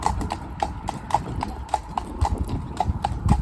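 A horse walks with steady clip-clopping hooves, a close and even rhythm of hard knocks over a rough outdoor background, while a voice talks faintly under it.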